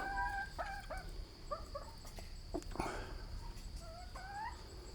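Backyard chickens cluck and chatter in short, scattered calls at moderate distance, with a brief rising squawk near the end over steady outdoor background noise.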